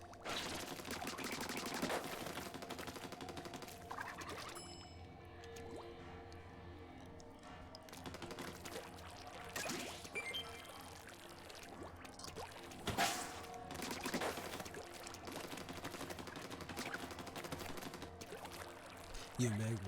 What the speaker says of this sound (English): I'm just gonna shoot random things in here.